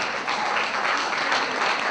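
Audience applause fills an award ceremony hall, a dense, steady wash of many hands clapping at full volume throughout, with no voices on top.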